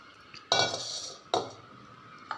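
Idli batter made from ration rice is scraped and poured from a cup into a metal pot, two distinct clanks of metal against metal followed by fading ringing and a faint tap at the end.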